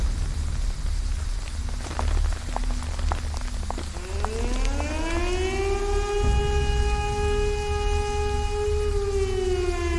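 In an anime city, a civil-defense alarm siren rises in pitch from about four seconds in and then holds a long wailing tone over steady, loud rain. Nobody speaks.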